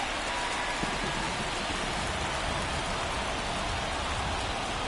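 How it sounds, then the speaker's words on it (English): Rain falls on a baseball field in MLB The Show 24, a steady, even wash of dense hiss with no breaks, with no voices over it. "the field's not going to be able to hold up if the rain gets any worse than this"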